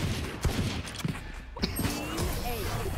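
Video game gunfight with sharp, rapid bursts of gunfire cracking out at irregular intervals, mixed with people talking over the shots.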